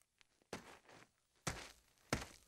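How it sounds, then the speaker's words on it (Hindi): Three heavy, spaced cartoon footsteps thud one after another, each a sharp, close impact with a short decay, over near silence. "ये तो कदमों की आवाज है।"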